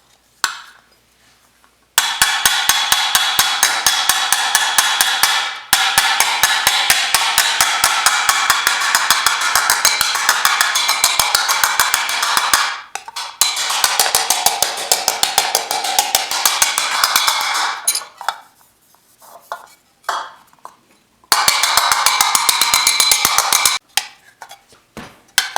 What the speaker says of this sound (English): This is the slapper I'm going to use for this.